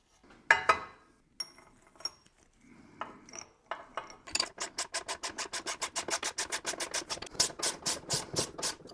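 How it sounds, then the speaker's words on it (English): Control arm bushing on a 240sx subframe being pressed in with hardware and a receiving coupler: a few scattered clunks and scrapes, then a fast rhythmic run of ratcheting clicks as the press is tightened, close and fairly quiet. "We're going to be using the hardware and a receiving coupler to press this"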